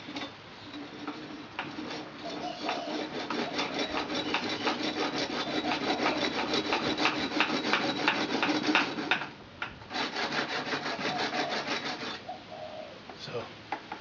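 Rat tail file or tile saw notching a water pipe arrow, a steady close scraping rasp in repeated strokes that pauses briefly and then resumes, with no talk.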